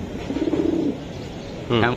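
Racing pigeons at a pigeon market in Old Dhaka give a soft low coo followed by a brief, louder burst, heard up close with a voice speaking nearby.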